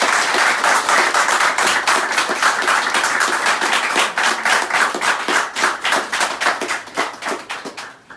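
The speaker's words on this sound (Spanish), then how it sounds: "Un aplauso" An audience at a gathering in Orlando claps loudly in a sustained burst of applause. It thins into scattered, distinct claps near the end.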